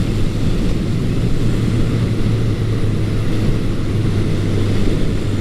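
A 1980 Honda CB900 Custom motorcycle rides along rural Pennsylvania back roads, its engine a loud, steady, unbroken drone mixed with rushing wind, close and constant throughout.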